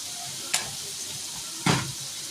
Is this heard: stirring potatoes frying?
yes